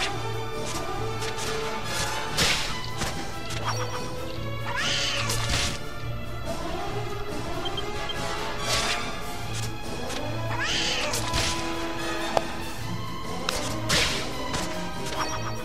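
Cat monsters meow and yowl repeatedly during a turn-based battle in Dragon Quest VIII, their cries rising over steady looping game music with occasional hit and whip-like effects.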